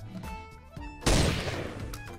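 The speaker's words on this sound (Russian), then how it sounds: "Это я просто на рандомку выстрелил." A single loud sniper rifle shot bursts out in the blocky shooter Block Strike, a sharp crack with a decaying tail over faint game background sounds.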